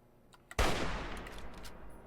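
A single hunting rifle shot goes off in Fallout 3, a sharp loud crack followed by a long rolling echo that fades slowly.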